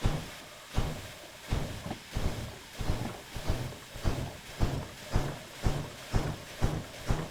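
Steam locomotive in Derail Valley pulling away under power: rhythmic chuffing exhaust beats, about two per second, each a breathy thump, steady and fairly close, with no talking.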